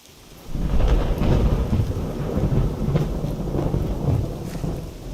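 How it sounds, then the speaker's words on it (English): Thunder rolls through a rainy video game scene, a low rumbling swell that rises sharply after a short quiet start and sustains over steady rain falling on surfaces, loud and close with no talking. "Now there's a thunder sound."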